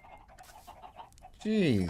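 A crowd of chickens in a survival video game clucks in scattered bursts, then one bird lets out a loud, close squawk at the end; a person briefly speaks over them.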